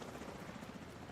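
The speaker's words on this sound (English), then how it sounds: "I hear a chopper though." A helicopter in the video game The Division 2 makes a continuous, steady rotor drone with a faint rhythmic chop, heard at a distance and fairly quiet throughout.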